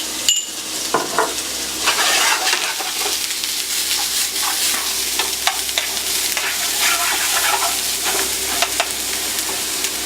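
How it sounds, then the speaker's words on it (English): Two whole onions fry in a very hot pan, a steady loud sizzle filling the clip with scattered clinks and scrapes of stirring throughout, no talking. "So as we can see, the pan is very hot right now. So we add our onion."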